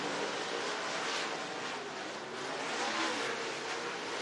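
Dirt track race cars roar steadily down the main straightaway at Florence Speedway in Union, Kentucky, during a Late Model B main, a dense, continuous engine drone with a faint swell as the field passes.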